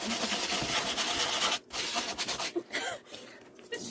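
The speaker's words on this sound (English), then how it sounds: "Okay, so we're just gonna sand it." Sandpaper rubbed back and forth over a patched hole in wooden furniture, a steady close rasping scrape that pauses briefly partway through before resuming in shorter strokes.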